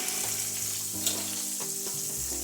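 Beef steaks fry in a pan with a continuous dense sizzle and crackle, close and steady, with occasional scrapes of stirring or turning and no talking.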